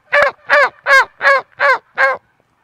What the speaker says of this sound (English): You hear the turkeys start talking?